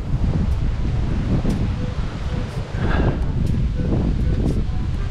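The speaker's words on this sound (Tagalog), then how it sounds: "Medyo malakas na ang, ang hangin dito." Strong gusty wind ahead of a typhoon buffets the microphone with a low, roaring rumble, rising and falling, with leaves rustling in the background.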